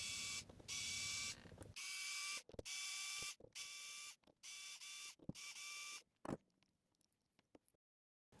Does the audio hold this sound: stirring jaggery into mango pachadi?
no